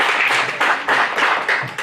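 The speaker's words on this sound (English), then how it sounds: "Clap it up, clap it up." A group claps in short, uneven bursts, several quick rounds of hand claps close by and fairly loud, with no talk over them.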